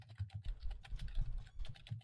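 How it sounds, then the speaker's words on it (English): Someone types rapidly on a computer keyboard. The key clicks are dense and uneven and sit close to the microphone, with a steady low hum underneath and no speech. "What are you typing right now?"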